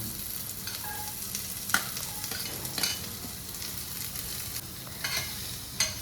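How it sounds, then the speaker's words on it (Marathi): Sliced onion and carrot sauté in a pan with a low, steady sizzle, punctuated by a few soft clinks and scrapes of stirring. "कांदा थोडासा परतला की त्यामध्ये मी आता गाजर टाकत आहे."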